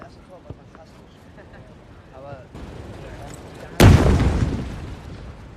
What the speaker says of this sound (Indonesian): Ketika mendengar kembali ledakan bom